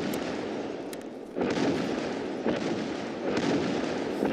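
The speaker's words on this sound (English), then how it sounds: "That would be the mortars." Mortar shells landing in Escape From Tarkov, a series of distant booming impacts, about four muffled blasts at irregular intervals over low background rumble.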